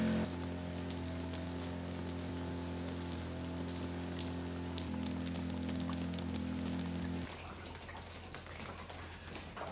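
Heavy rain pours down steadily as a dense, constant hiss with a low hum beneath it, then thins slightly near the end, with no voices.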